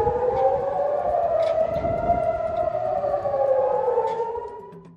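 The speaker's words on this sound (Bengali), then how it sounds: "গোষ্ঠীটির হামলার কারণে ইসরায়েল জুড়ে সাইরেন বেজে উঠেছে।" Air raid siren wailing across Israel during a Houthi missile attack, a long rising-and-falling tone with layered distant sirens, loud and sustained before fading toward the end.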